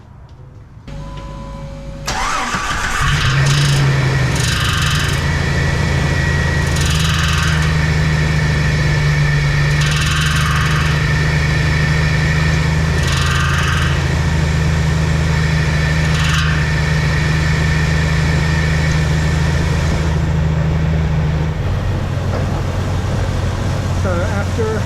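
A Jeep Wrangler TJ engine cranks, catches and settles into a loud, steady idle close by, with a constant droning hum and some talk underneath.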